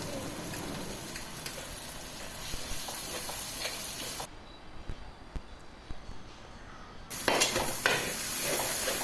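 Ginger and garlic frying in oil over a low flame for a tuna fish pickle, a steady soft sizzle with occasional stir scrapes, broken by a quieter gap midway before the crackle returns.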